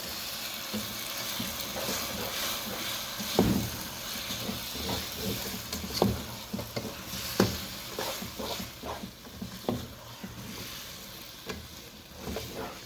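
Sweet vermicelli (Kolson pasta saviyaan) being mixed in a pan, quiet hiss and sizzle with irregular soft scrapes and knocks of a spoon against the pan, close and with no talking.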